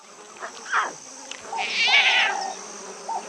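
Big cat cubs call out for their mother with a series of high, mewing cries, rising and wavering, close and fairly loud, with short pauses between calls.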